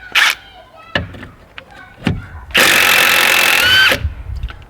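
An Ingersoll Rand impact wrench works a 16mm bolt on an Audi front upper control arm, with a loud sustained rattling burst of about a second and a half after a few scattered clanks and knocks.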